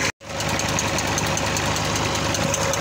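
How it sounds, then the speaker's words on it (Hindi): Tractor engine running steadily at a tubewell among wheat fields, a close, continuous mechanical drone with a knocking undertone after a brief dropout at the start. "ट्रैक्टर चल रहा है ट्यूबवेल पर"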